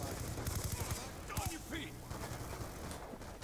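Rapid gunfire from a weapon in Black Ops 2, a quick burst of shots early on followed by scattered game effects, fairly faint under ambient game sound.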